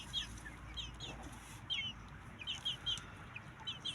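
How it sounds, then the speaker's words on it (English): Black Australorp chickens on a small farm cluck in short, scattered bursts, some near and some farther off, over a steady outdoor background hum with no talking. "We have black astrolog chickens."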